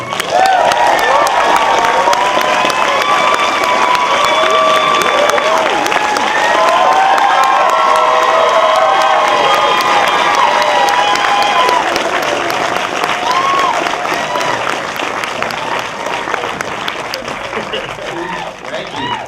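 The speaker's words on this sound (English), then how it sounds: "That's what real applause sounds like" Festival audience at a Key and Peele comedy talk breaks into sustained loud applause with cheers and whoops, a dense roar of clapping that holds steady and tapers slightly toward the end.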